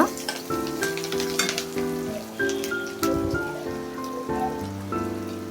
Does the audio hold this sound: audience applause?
no